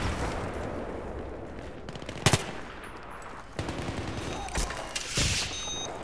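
Automatic rifle fire on the Karkand map in Battlefield 3 comes as several sharp, loud bursts over a noisy battlefield background, with one strong burst mid-way and further bursts toward the end.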